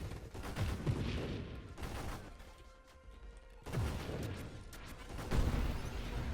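Gunfire and crashing blasts from the space shooter game Nova Drift, dense bursts of shots coming in waves with a quieter lull in the middle, loud and continuous throughout.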